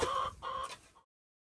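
A chicken in a coop gives a couple of short, close clucks in quick succession, then the sound cuts off to silence.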